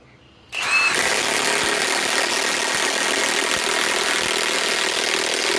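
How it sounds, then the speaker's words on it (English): A Milwaukee M18 Fuel impact wrench with a 3-amp battery bursts on after a moment of quiet and drives a 5-inch power lag, hammering loudly and steadily close by. "Let me run this 5-inch power lag."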